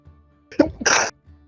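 A single sharp sneeze, close and loud, with a quick inhale before the burst and quiet room tone around it.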